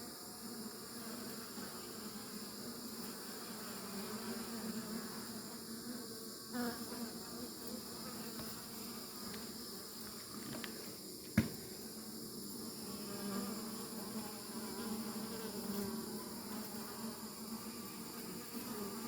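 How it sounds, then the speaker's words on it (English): A steady, low buzzing drone of a honey bee swarm on a tabletop fills the air without pause, moderately quiet, with one brief sharp tap partway through. "when I got out the truck and I seen bees over here"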